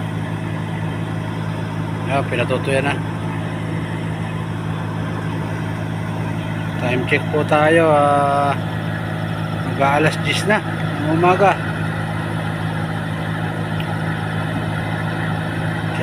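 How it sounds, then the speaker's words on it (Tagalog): A small water pump engine at a fish pond drones steadily in the background, a constant low hum, while a person talks over it in bursts. "medyo maingay yung makina ng ating bomba"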